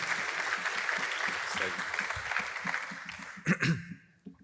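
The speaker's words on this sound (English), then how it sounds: "give them a big round of applause." An audience at a hackathon closing ceremony in Lisbon applauds a demo team with steady, moderate clapping that cuts off near the end, followed by brief voices.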